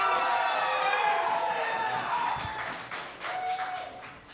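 Studio comedy-show audience applauding and cheering for a comedian, a dense wash of clapping and shouts that holds steady, dips briefly, then swells again.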